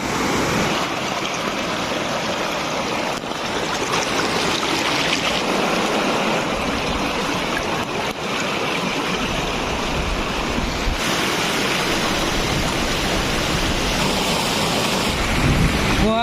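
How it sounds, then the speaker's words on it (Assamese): A river near Pasighat is forded on foot; its water rushes and splashes in a loud, steady, broadband wash for the whole stretch, close by and with no talking. "আমি এই নদীটো পাৰ হৈ পেলি সেই আগত যাম"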